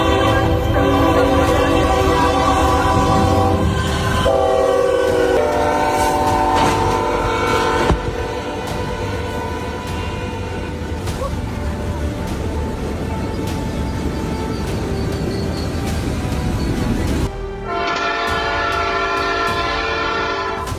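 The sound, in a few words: train passing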